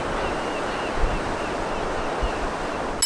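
Waves washing ashore on a busy, lively beach on Langkawi island, a continuous broad rush of surf with soft swells, heard alone without voices.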